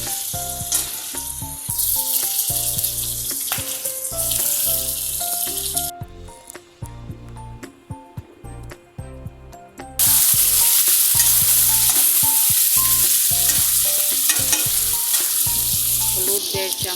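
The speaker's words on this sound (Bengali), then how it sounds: "কিছুক্ষণ নাড়াচাড়া করে আলুগুলি দিয়ে দেব।" Chopped ginger, green chillies, jenam leaves and potatoes fry with panch phoron for a Manipuri katla fish curry, a continuous loud sizzle with stirring scrapes that grows noticeably stronger partway through, steady tones running underneath.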